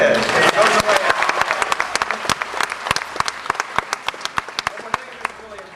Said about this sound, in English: you can applaud that, go ahead